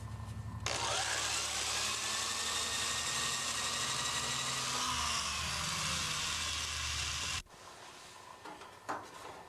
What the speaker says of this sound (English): and drill a pilot hole.